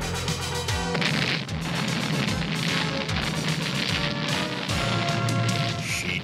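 A cartoon explosion from the animated He-Man and She-Ra Masters of the Universe series sounds as a dense, sustained rumble of repeated booms and crackling blasts layered over a bright, tonal score.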